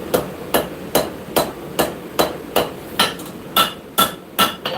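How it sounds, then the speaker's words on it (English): Steady hammer blows ring out on a knife blade held off the edge of an anvil at a forge, striking the butt end about twice a second, close and loud with a sharp metallic clank on each hit. "I'm holding the blade off the edge of the anvil, and I am hammering in on the butt of it"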